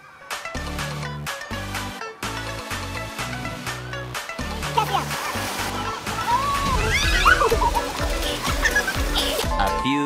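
People rush down a water park slide, with sloshing water and loud splashing that grows busier toward the end, heard up close alongside voices and crowd noise.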